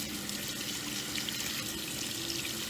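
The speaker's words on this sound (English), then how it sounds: "just gonna wash my hands." Tap water runs steadily at a sink while hands are washed under it, an even rushing splash heard close and moderately loud, with no one talking.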